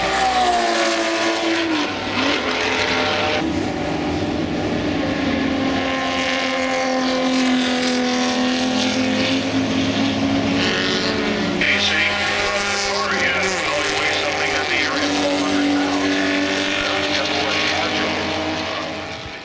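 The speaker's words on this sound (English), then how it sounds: "a Ferrari 250 GTO racing full throttle around the track" Ferrari 250 GTO with its V12 racing at full throttle around a track, a loud, sustained high-pitched engine wail that rises and falls through gear changes, continuous throughout.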